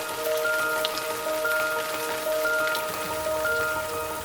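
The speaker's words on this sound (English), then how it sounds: "It's raining." Steady rainfall patters on a hard surface, a constant wash of drops with faint tonal hum behind it, no voices.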